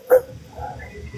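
A single short electronic dog bark from a cyborg dog gift on a TikTok livestream, one quick yap up front followed by low background murmur.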